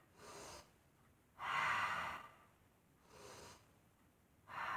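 Slow, audible breaths during an easy seated chair yoga session, with four evenly spaced inhales and exhales of rushing air, close and soft with quiet pauses between.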